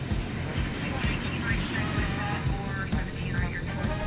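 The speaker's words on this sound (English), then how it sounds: "we got a Frontier plane coming in" A Frontier Airlines Airbus A320neo jet arriving at Dallas/Fort Worth airport at night, a steady broad roar of engine noise holding at a constant level throughout, with music playing faintly beneath it.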